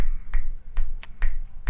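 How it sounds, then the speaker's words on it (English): Five crisp finger snaps ring out close and loud, spaced at an uneven rhythm over a low background hum, with no talking. "Finger snaps."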